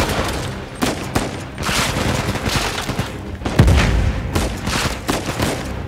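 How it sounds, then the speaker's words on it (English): Combat in Uncharted 4 rumbles continuously, with rapid gunfire and a heavy booming explosion partway through, loud and busy with no talking. "throwing grenades is not fair"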